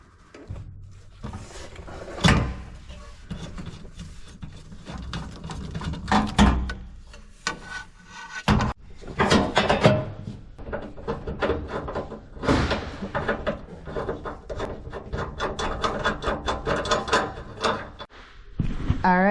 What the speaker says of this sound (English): So now we are just going to take your rivet nut and you are going to get it installed right up in there